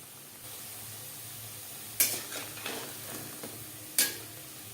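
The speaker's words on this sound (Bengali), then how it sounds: "যাতে ভেতরে এইভাবে ভাজতে হবে যাতে ক্রিস্পি হয়" Gram flour fritters (besan pakoras) fry over a medium flame with a soft, steady sizzle, broken by two sharp scrapes and clinks of a spatula turning them in the pan.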